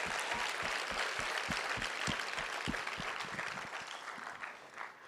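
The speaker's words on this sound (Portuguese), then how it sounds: "Você pode aplaudir o Senhor por a vida da Rede Nuvem?" A church congregation applauds together during a worship service, with steady, full clapping and a few sharper individual claps standing out, fading slightly toward the end.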